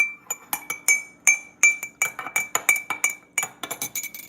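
A spoon stirs inside a glass, making a quick run of bright, ringing clinks that come close and loud in uneven bursts, with no voices over them.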